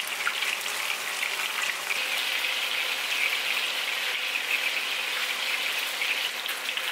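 Catfish pieces fry in hot oil in a pan over high heat, giving a steady, dense sizzle and crackle that stays close and even throughout, with no voices.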